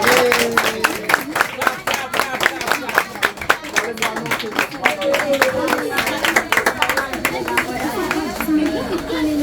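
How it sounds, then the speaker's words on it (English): School kids on an excursion clapping for Maame Serwaa, a patter of many small hands under lively children's chatter and adult talk, near and continuous. "So you clap for Maame Serwaa"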